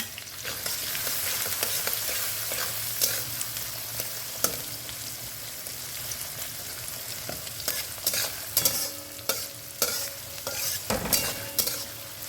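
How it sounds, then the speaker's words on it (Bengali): Chopped onions sizzle and crackle steadily in a hot pan, with occasional scraping and stirring clicks from a spatula, close by and fairly quiet. "এই পেঁয়াজ ভাজার সময়"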